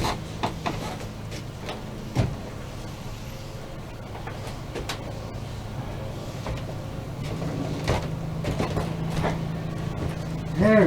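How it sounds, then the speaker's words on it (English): Metal rethreading work on a motorized bike part, converting a metric fine thread to a coarse thread, with intermittent scraping, clicking tool noises over about eleven seconds under steady background hum. "I'm rethreading the metric fine thread to a coarse thread, so we can put those on"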